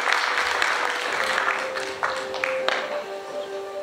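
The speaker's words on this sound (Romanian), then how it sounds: "s-o aplaudăm pe Ioana Grad" Audience applause at a university Faculty of Letters graduation ceremony in Baia Mare, a dense steady clapping from a crowd filling the whole stretch, with a few sharper taps and a faint sustained tone underneath.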